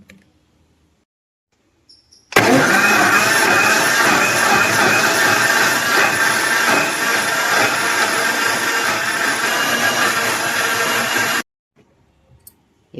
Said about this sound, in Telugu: ఇప్పుడు మిక్సీ వేసేసుకుందాం